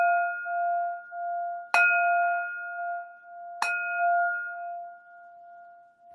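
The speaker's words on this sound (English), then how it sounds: "Let's move into bell 3." A meditation bell is struck twice, several seconds apart, each strike a sharp clear attack followed by a long pure ringing tone that slowly fades, alone in a quiet room with no voices.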